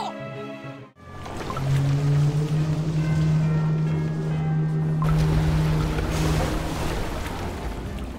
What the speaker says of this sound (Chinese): 不，是整片大海都在晃，这是人鱼的力量